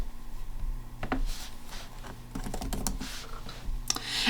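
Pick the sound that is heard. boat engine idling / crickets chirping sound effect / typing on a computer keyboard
typing on a computer keyboard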